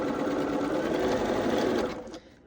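Sewing machine stitching an Irish Chain quilt block, a loud, close, fast mechanical whir that runs steadily for about two seconds and then stops, with no talking.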